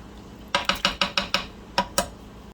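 Freeze-dried cilantro is mixed into a weeknight dish with a utensil that scrapes and knocks against the bowl about eight times in a quick rhythm. The strokes are close and fairly loud, with no talk.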